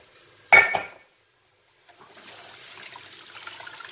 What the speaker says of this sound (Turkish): Nohutumun suyunu süzüyorum.